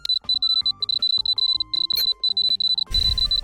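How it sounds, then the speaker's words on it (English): High, steady Morse code beeps in a video game, a fast run of short and long tones with brief gaps, clear and close, ending in a burst of low rumbling noise. "I have to slow down the Morse code and listen to it again"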